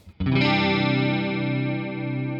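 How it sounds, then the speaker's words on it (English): A single sustained electric guitar chord rings out with a shimmering, layered chorus effect, slowly fading over a couple of seconds. "Chorus gives you a layered, shimmery sound."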